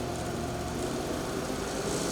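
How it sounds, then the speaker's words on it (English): A Polaris Patriot Boost RMK Matryx Slash snowmobile engine runs steadily at low throttle with its track slowly turning, a continuous even drone close by with no talking. "start the engine and apply a small amount of throttle until the track turns slowly"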